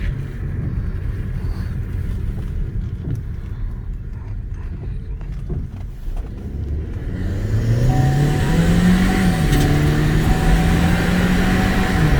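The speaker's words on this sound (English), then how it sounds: "Oh, it's the turbo. I hear it." A turbocharged 1.4-liter engine in a 2014 Chevy Cruze LTZ RS accelerates from inside the cabin, its steady rumble rising in pitch with a climbing whistle-like tone after a quieter stretch.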